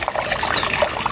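Water flowing at a mountain spring source, a continuous gushing trickle heard close and fairly loud, steady with no voices over it.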